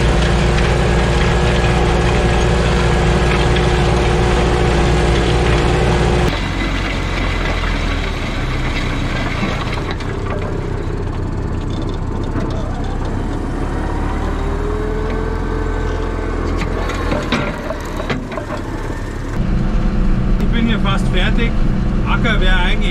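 A Bulldog tractor engine labors while plowing a hard, dry field, a loud, continuous low drone that shifts in level partway through, with voices talking over it.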